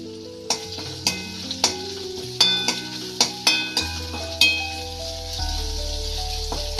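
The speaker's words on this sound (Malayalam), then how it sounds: "വെളുത്തുള്ളി നല്ലവണ്ണം മൂത്ത് വരണം" Garlic fries in a pan for a north Kerala rasam while a spoon stirs it, producing a run of sharp metallic clinks over a steady low sizzle, close and fairly loud, with background music tones and no talk.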